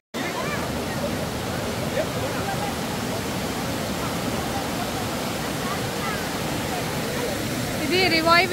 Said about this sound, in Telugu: ఇది రివాయ్ విలేజ్ వాటర్ ఫాల్స్